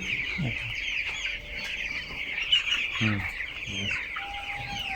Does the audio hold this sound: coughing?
no